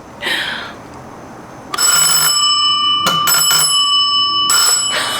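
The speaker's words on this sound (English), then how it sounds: "It's the doorbell." A bright metallic house doorbell in Chattanooga, Tennessee rings in a few bursts, trilling rapidly then stopping and ringing again, loud and close, after a brief soft rustle.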